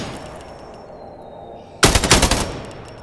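A rapid burst of automatic gunfire from a first-person shooter game, Fargone, cracks loud and close after a quiet stretch, firing several shots in quick succession before trailing off.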